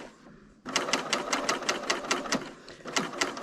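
A Bernina serger sewing machine runs after a short quiet start, stitching close up with a rapid, even, rhythmic clatter that pulses steadily for a few seconds.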